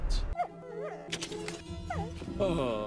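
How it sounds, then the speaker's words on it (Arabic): Cartoon dog Bolt whimpers and gives short barks and yips in a lively animated scene, several brief rising and falling cries close up over busy background music and effects. "انت بولت الكلب الخارق"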